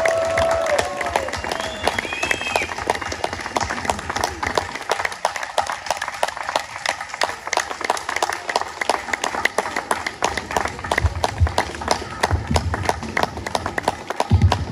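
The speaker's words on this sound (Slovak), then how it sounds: "Tak ešte raz veľký potlesk." Audience applause at an outdoor celebration honouring an award winner, dense sustained clapping throughout with crowd noise and scattered voices mixed in.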